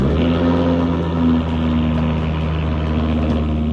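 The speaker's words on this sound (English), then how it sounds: "Got a little exhaust clip." A turbocharged five-cylinder car rumbles with a steady, loud exhaust drone at a near-constant idle, a low throbbing tone holding unbroken for a few seconds.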